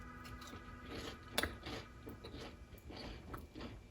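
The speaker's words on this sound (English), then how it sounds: "Can you hear that crunch?" Quiet crunching from someone biting and chewing crispy food, with one sharper crack early and soft repeated crunches after.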